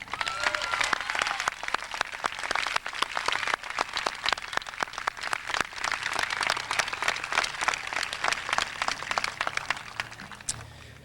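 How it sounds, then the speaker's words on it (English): Crowd at a 1991 high school graduation ceremony applauds the graduating class with sustained, crisp clapping heard from a distance, steady throughout with no voices over it. "They deserve a tremendous round of applause"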